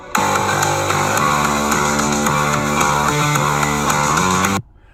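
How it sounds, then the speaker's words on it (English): A dense, loud full-band music passage with a prominent bass line moving under bright layered instruments, stopping abruptly near the end. "what you heard there was the bass part brought up in the mix."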